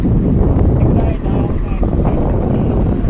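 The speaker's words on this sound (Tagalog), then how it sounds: "Medyo malakas yung hangin ngayon" Strong wind at night at Dangay port in Roxas buffets the microphone in a steady, heavy low roar throughout, with faint muffled voices buried underneath.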